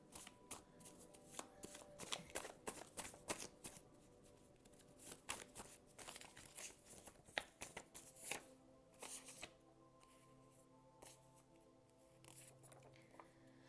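Tarot cards are shuffled by hand in quiet, irregular bursts of riffling and sliding, close up and soft, with the flicks thinning out toward the end and no speech.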